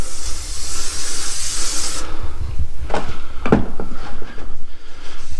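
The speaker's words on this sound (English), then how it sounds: "I like to take some brake cleaner and take and spray down" Brake cleaner sprays in a steady loud hiss under a car during an oil change on a Lincoln MKC, the hiss cutting off after two seconds and followed by faint clanks and rubbing.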